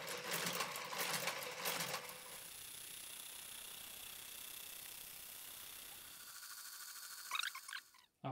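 A Brother KG95 garter carriage works across a knitting machine, its busy mechanical clatter loud for the first two seconds, then a steadier whirring run of rows, ending with a few sharp clicks and knocks as it stops.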